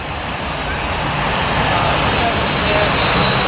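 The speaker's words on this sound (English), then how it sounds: "Another plane coming into LAX" A jet airliner on approach into LAX roars steadily overhead, a loud broad wash of engine noise holding through the whole stretch, with a voice faintly present beneath it.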